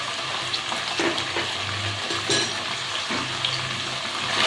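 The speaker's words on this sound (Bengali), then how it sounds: "আমি মশলাটাকে একটু কষিয়ে নিচ্ছি।" Spices with tomato and Kashmiri chili powder frying in a pan for a pointed gourd and rice dish, a steady close sizzle with light stirring scrapes and a faint utensil clink, with no talking.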